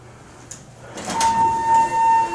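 Slow elevator doors with brass panels sliding, a soft whooshing rumble building over a second with a steady faint tone ringing above, moderately loud and close.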